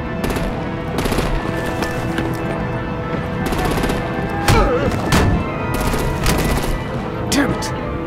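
Rapid automatic gunfire rattles in bursts during a tense action scene in Batman: The Enemy Within, with dense repeated shots over a constant rumbling background and occasional heavier thuds.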